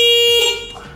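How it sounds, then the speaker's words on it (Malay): A single short, loud Hella motorcycle horn blast sounds with a bright, sustained tone, then cuts off and fades into a brief mechanical rattle. "Yang ini lebih kuat daripada horn motor standard."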